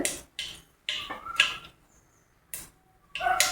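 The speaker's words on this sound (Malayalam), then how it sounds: "കടുക് പൊട്ടുന്നുണ്ട്" Mustard seeds pop in hot coconut oil: a handful of sharp, loud cracks at irregular intervals, close by, with quiet gaps between.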